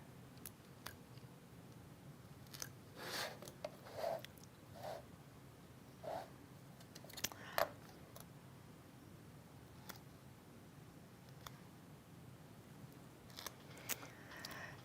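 Quiet, scattered little snips and clicks of scissors trimming jump stitches on machine embroidery, irregular and close, over a soft background hiss.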